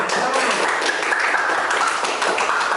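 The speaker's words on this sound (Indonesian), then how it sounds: "tepuk tangan buat kita semua" Steady clapping from a class of students in a school lesson, a continuous dense patter of many hands with no break, fairly loud throughout.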